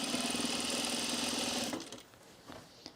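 A sewing machine with gray thread stitches fabric at an underarm seam, a steady close whir that stops after under two seconds, leaving soft handling noises.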